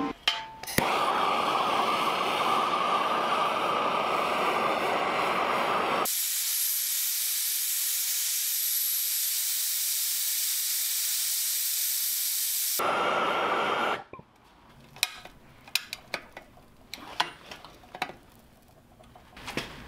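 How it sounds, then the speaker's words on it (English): A torch heats salvaged steel before it is bent for a metal rocket stove: a loud, steady hiss for roughly thirteen seconds that changes tone midway, then cuts off, leaving scattered light knocks and clinks. "Now I'm gonna heat this so I can bend it around."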